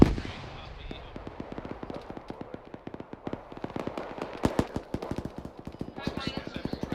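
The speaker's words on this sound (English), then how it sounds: "Ooh, machine gunner." Machine gun fire in the military game Arma 3 run in Zeus mode, long rattling bursts of rapid shots with echoing distant fire, steady for about seven seconds.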